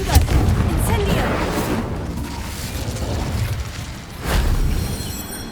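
Fire and explosive spell blasts in the video game Hogwarts Legacy, heard as rumbling booms and bursts with a swelling blast near the end, loud and close, mixed with a voice speaking.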